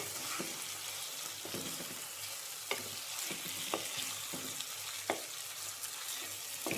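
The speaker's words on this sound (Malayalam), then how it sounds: "ഒന്ന് ഇളക്കുക" Meat roast frying in a pan, a soft steady sizzle with occasional scraping clicks of a spoon as it is stirred, close and fairly quiet with no talk.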